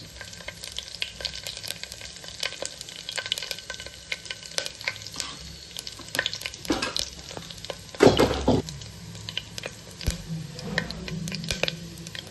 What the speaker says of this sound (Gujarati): જીરું ને વરિયાળી સરસ એવા ફૂટી ગયા છે